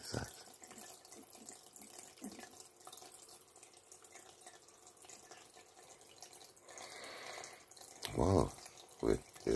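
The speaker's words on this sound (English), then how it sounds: "It's my new water feature." Water trickles and splashes steadily from a garden water feature in the background while a person talks quietly, with a few louder thumps near the end.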